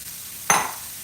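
Freshly chopped celery tossed into a hot pan for homemade sausage and sage dressing, giving one sudden loud sizzling burst that fades quickly into a soft hiss.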